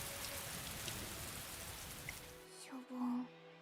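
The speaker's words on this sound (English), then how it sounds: "Oh, it's raining." Rain falls in a video game as a steady, fairly soft hiss for most of the stretch, then cuts off abruptly near the end, where a brief voice or tone sounds.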